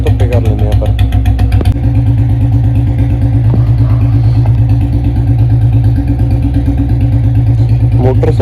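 A Royal Enfield Bullet motorcycle with a long bottle exhaust idles loudly and close after a cold start, its rapid, even thump steady throughout.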